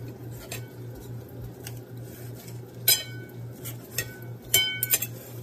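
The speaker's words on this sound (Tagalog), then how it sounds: "Hihiwain ho ang sausage ng ganito." A knife slices through sausage for biscuits and gravy, giving a few sharp clicks and knocks against a board over a steady low kitchen hum, with the loudest cuts near the end.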